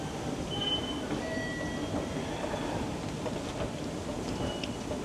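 Train ride toward Nikko, Japan: a steady rumbling carriage interior with a continuous low roar and faint higher squeals and whines, no talking.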